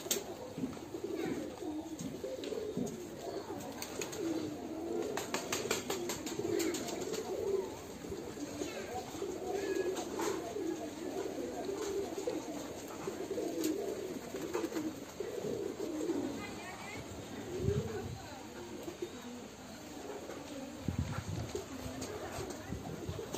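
Fancy pigeons, including a newly arrived lakka, coo steadily in a loft, their soft, overlapping low murmurs running continuously and faintly throughout, with no clear talk over them.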